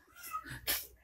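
A cat meows once, close and fairly loud, with a brief bright cry over quiet indoor background noise.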